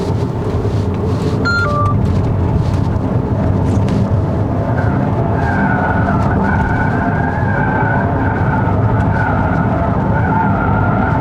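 Lexus RX 450h+ plug-in hybrid engine running continuously in charge mode while driving, a steady loud drone with road and tire noise, rising tonal hum partway through, no talk.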